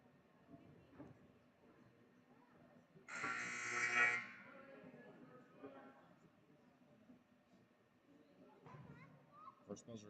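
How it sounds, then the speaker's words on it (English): A loud electronic buzzer sounds once for about a second at a high school girls' basketball game, rising sharply out of low gym crowd murmur and commentary that continue before and after it. "First buzzer signals."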